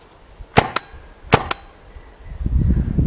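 Two pairs of sharp, dry pops from a RAP4 T68 M4 paintball gun, each shot followed by a quick second crack, fired outdoors and standing out clearly against quiet surroundings before low wind rumble rises.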